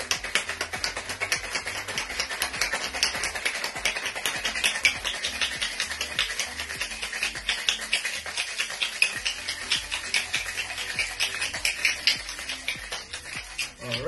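A cocktail, a French 75, is shaken hard in a three-piece metal shaker with ice, producing a dense, continuous rattling clatter at a fast steady rhythm for about fourteen seconds, close and loud with no talking.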